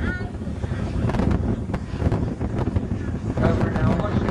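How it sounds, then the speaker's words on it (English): Strong wind gusts down the runway of a big RC model plane flying field, buffeting the microphone in a loud, continuous roar with indistinct voices underneath. "Never seen the wind down the runway like this for years."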